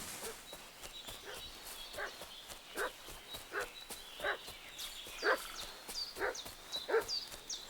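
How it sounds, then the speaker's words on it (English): A dog barks repeatedly in Kingdom Come Deliverance II, with sharp, evenly spaced barks at moderate distance over a quiet outdoor background. "What's that dog making such a fuss about?"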